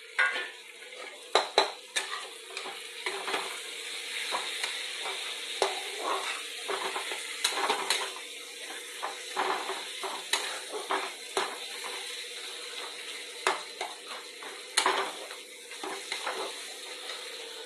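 Mung dal being stirred with fried spices in a pan, a spoon scraping and clinking against the metal in irregular strokes over a low sizzle, close and moderately quiet with no talk.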